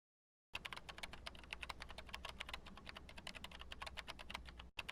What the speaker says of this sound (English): Oh, but the typing is fine.